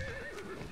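A single brief whinny from a horse mount in the video game Far Cry 6, fairly faint and over almost at once.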